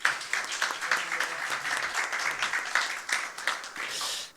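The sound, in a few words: applause at walking forum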